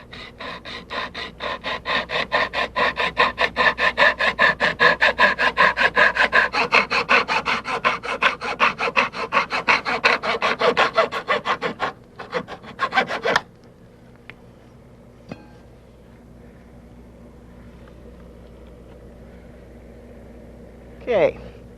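Excess aluminum rub rail is cut off at a corner with rapid, rhythmic rasping strokes that run steadily for about twelve seconds, then trail off into a few isolated clicks and taps over quiet background.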